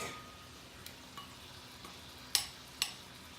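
Steak pieces frying in leftover lemon butter juices: a faint, soft sizzle with a few sharp clinks and scrapes of a utensil on the pan.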